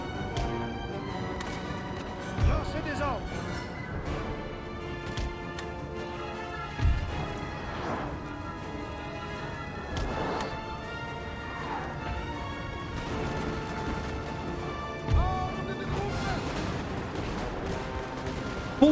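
Booming cannon shots go off every few seconds over a busy Napoleon: Total War game soundtrack of rumbling and clatter, with no talking.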